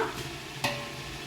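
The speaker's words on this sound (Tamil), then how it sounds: "மிளகாத்தூள் போட்டு நல்லா கிளறி விட்டுக்கலாம். இந்த தக்காளியோடு சேர்ந்து அதுவும் வதங்கட்டும்." Tomatoes with chilli powder are sautéed in a pan for chicken biryani, giving a soft continuous sizzle with a single scrape of stirring midway, close and brief, no voices.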